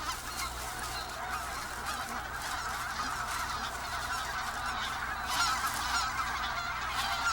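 A flock of wild geese foraging among rice straw in a winter rice paddy honks continuously, a dense, steady chorus of overlapping calls at moderate distance, with no talking.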